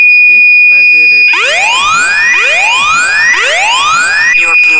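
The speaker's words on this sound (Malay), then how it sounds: "Okay, so dekat sini buzzer dah bunyi." A BluGuard V16 home alarm system buzzer sounding in a series of rising, sweeping tones, loud and close, with brief beeps before and after.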